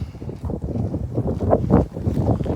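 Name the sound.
strong wind blowing outdoors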